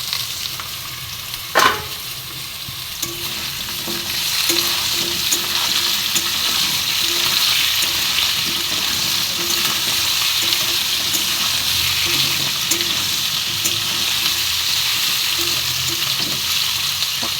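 Vegetables and bottle-gourd greens fry with potatoes in a pan, a constant close sizzle with soft stirring scrapes and a sharp utensil clatter near the start; no one speaks.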